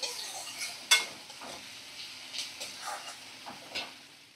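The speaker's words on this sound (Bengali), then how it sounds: "এবার ভালো করে 5-7 মিনিট আমি সমস্ত কিছু ভাজা করে নেব।" Potatoes and a fish head fry in a pan with onion, a soft sizzle under repeated scraping and stirring of a spatula, with one sharp metallic clink; quiet and close.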